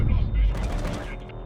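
A weapon firing in the video game Wasteland, a brief burst of gunshots with mechanical clatter, moderately loud and close, with a voice faintly present beneath it.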